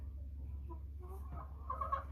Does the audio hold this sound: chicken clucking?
yes